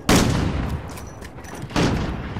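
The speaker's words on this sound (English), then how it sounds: "I don't know what gun you're using, sir, but it's hella loud." Loud gunfire in the Call of Duty Modern Warfare video game, two heavy bursts of shots close up with a quieter stretch between them.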